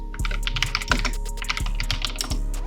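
Rapid, close keystrokes clatter on a computer keyboard in a continuous run of crisp taps, with a faint low hum beneath and no voices.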